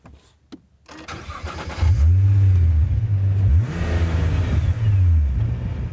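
A Nissan Juke-R engine cranks and catches after a brief quiet moment, then revs loudly several times in sweeping rises and falls, close and powerful, with no talking.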